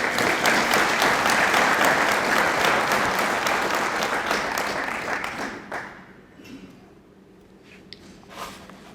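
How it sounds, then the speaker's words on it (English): An audience at a 2022 State of the City address breaks into dense, sustained applause that fills the room for about six seconds, then thins out and fades to a quiet hall with a few scattered claps near the end. "Let's give them a round of applause."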